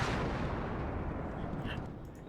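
Artillery salvo in the Warno strategy video game, a heavy booming roar of explosions that rumbles loud and slowly fades over a couple of seconds.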